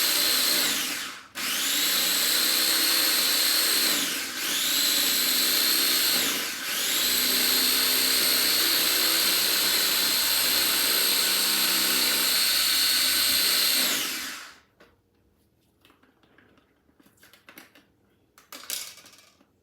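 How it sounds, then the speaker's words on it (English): Electric food chopper pureeing food: a loud, close, high-pitched motor whir that runs steadily for about fourteen seconds with two brief pauses, then stops, leaving faint clicks and handling noises. "So now what I'm going to do is I'm going to try to puree it the best I can."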